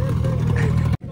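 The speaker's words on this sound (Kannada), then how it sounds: "ಆಗಳಿಂದ ಇಂಜಿನ್ ಸ್ಟಾರ್ಟ್ ಆಯ್ತು." A small fishing boat's engine runs with a steady low rumble close by, with voices talking over it, then the sound cuts off abruptly.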